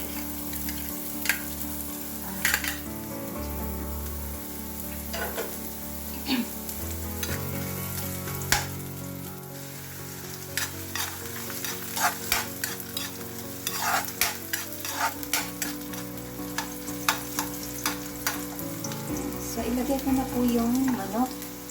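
Garlic and onion fry in a pan for chicken tinola, a crackling sizzle broken by repeated clattering stirs and scrapes of a utensil, close and fairly loud, with a voice speaking now and then.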